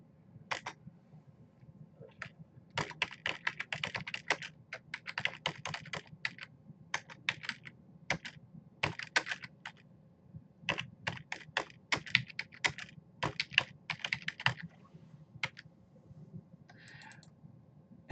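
Rapid, irregular keystrokes on a computer keyboard while a paper title is typed in, with close-up clicks in quick bursts and short pauses, over a low steady hum.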